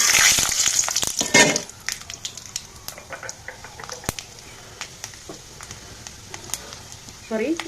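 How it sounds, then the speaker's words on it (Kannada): Seeds dropped into hot oil on a low flame burst into a loud crackling sizzle, then settle into scattered pops and spits, with brief speech toward the end. "ಈಗ ಸ್ಟವನ್ನು ಸ್ವಲ್ಪ ಲೋ ಫ್ಲೇಮ್ ಮಾಡಿ ನೀವು ಕಾಳುಗಳು ಹಾಕೋಣ"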